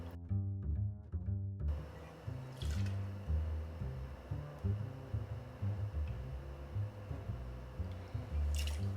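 Rum pours into a cocktail glass for a Bywater cocktail, a close, gurgling liquid stream with bubbling pulses that runs on steadily, with no talk over it.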